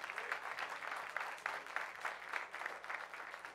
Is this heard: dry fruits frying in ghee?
no